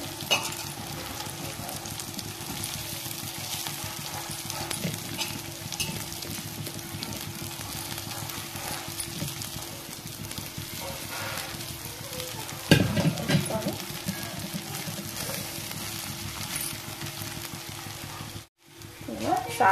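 Flattened rice upma frying and being stirred in a pan, a steady low sizzle with scraping stirs throughout and a louder scrape near the middle.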